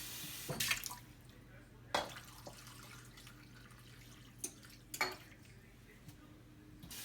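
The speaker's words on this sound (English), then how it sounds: "So I just need to make sure that this gets filled up. Yes, I'm using tap water." Tap water running into a pot in a home kitchen, heard as a few short, faint bursts of splashing and clinking separated by quiet gaps, with a low steady hum underneath.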